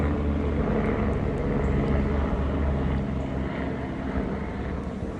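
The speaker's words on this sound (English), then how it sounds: "there's a helicopter passing by" A helicopter passing overhead, a steady droning rumble of rotor and engine noise that holds at an even level throughout, moderately loud and continuous.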